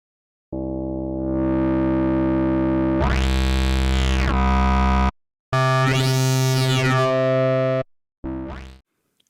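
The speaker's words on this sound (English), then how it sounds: "A little bit of distortion will help bring out the crunch, and we have ourselves a pretty cool sound already." Harsh, buzzy filter FM synthesizer tones with heavy distortion, sweeping filter bends rising and falling across a few loud sustained notes separated by brief silences.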